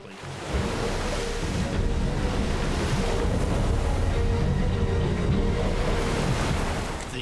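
Roaring rush of whitewater at Lava Falls rapids, a broad, steady churning wash that holds loud and continuous throughout with no voices.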